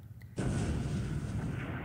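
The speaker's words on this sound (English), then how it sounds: "So 8-inch shell hit," An 8-inch naval shell hit from the War in the Pacific video game lands with one sharp, loud explosion, then a sustained rumbling roar that carries to the end.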